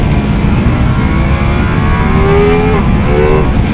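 A Ducati Multistrada V4S engine revs hard in third gear toward 8000 rpm, a loud, close, rising engine roar with the pitch climbing steadily and a brief dip near the end, with no voices.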